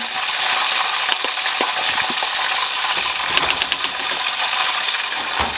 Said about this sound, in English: this is starting to bubble